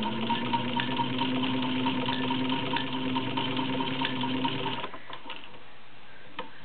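A vintage mint green Singer 15-125 sewing machine with a potted motor runs slowly through five layers of denim, a steady whirring hum with rhythmic stitching ticks that winds down and stops near the end.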